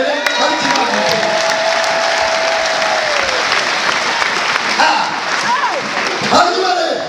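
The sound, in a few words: congregation applause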